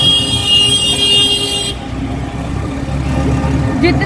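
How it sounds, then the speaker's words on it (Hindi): Car horns honk in busy street traffic around an auto-rickshaw ride, mixed with constant engine and road noise; a short horn burst comes near the end, and voices talk over the din. "जितने भी ये हॉर्न बजाते हैं ना सबको पाप चलेगा"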